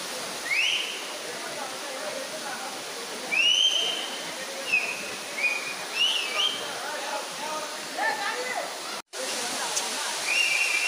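Tada Waterfalls rushes with a constant broadband hiss of falling water, while thin whistling tones come and go above it.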